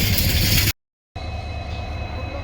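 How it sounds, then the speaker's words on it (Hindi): A twin 9000-horsepower diesel locomotive on its last diesel run with the Bikaner-bound 12456 express, a loud rumbling roar with wheel and rail noise, broken by a brief silent gap. "इनकी जो गर्जना है और जो इनका 9000 हॉर्स पावर का जो इनकी पावर हुआ करती थी वो हमसे आज विदा ले रही है"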